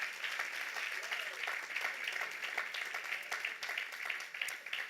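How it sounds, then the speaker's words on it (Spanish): A church congregation claps steadily during a sermon, with many overlapping hand claps, dense and even throughout, at moderate distance. "Den un aplauso al Señor para que le dé rabia al diablo"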